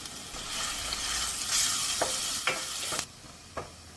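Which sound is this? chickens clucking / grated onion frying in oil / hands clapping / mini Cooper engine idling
grated onion frying in oil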